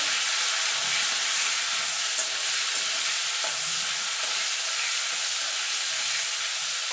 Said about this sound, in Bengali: চিংড়ি মাছটাকে একটুখানি হালকা করে ভেজে নেব